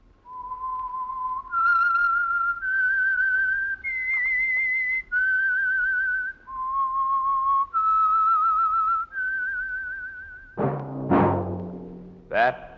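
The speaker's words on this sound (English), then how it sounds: "That whistle is your signal for the Signal Oil Program, The Whistler." A clear whistled theme tune for The Whistler, an old Signal Oil radio program. It is a lone melodic line of sustained, slightly wavering notes, followed near the end by a short burst of orchestral music.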